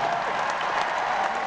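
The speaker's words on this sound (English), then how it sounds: "Thank you for the applause of agreement." A comedy club audience applauds steadily at a stand-up show, a dense wash of clapping filling the room at even loudness throughout, with a few scattered cheers mixed in.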